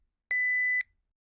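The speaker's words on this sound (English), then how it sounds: "Please leave a message after the beep." A single electronic answering machine beep, a steady pure tone lasting about half a second, clear and isolated against near silence.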